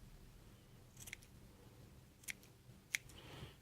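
Small scissors snip a cotton wick on a Wotofo Freakshow RDA vape deck, giving three sharp, isolated clicks over a quiet background.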